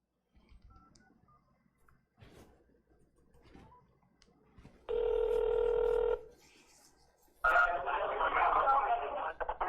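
Call placed to a scam phone number: a steady telephone tone followed by a louder, buzzier ringback tone, both close and clear, with quiet talk and small clicks in the gaps before and between them.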